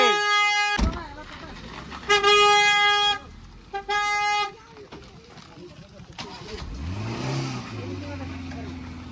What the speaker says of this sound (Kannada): ನಡ್ರಿ ಪಟ್ ಪಟ್ ಗಾಡಿ ತೆಗೀರಿ